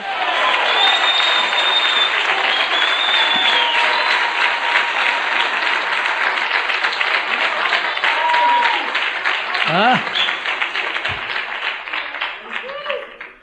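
A church congregation applauds in long, loud, sustained clapping that fills the hall and tapers near the end, with voices calling out over it.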